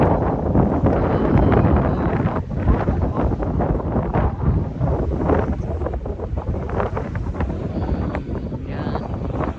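Strong seaside wind at Salmiya beach buffets the microphone in loud, continuous roaring gusts, with faint speech blurred under the rumble.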